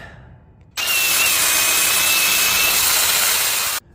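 A power sander grinds across a Sterling 10.5 axle during a teardown, starting abruptly, holding a loud, close, steady abrasive hiss with a faint whine for about three seconds, then cutting off sharply.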